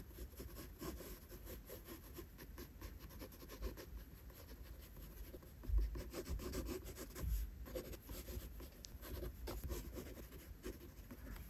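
A drawing tool rubs across paper, laying in light colour with steady scratchy back-and-forth strokes, soft and close, with no talking.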